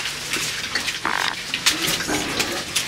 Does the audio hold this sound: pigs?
yes